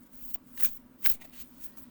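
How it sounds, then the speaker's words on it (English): A thick deck of cards is shuffled overhand, giving soft, repeated riffling swishes with a few sharper snaps, quiet and close with a faint steady hum underneath. "Or you can do the overhand, which is my favorite."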